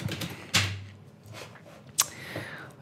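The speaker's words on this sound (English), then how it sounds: "I have no idea what I'm doing. I'm just typing." Keys tapped on a computer keyboard while operating lighting-control software, with a few sharp, isolated clicks spaced apart and quiet gaps between.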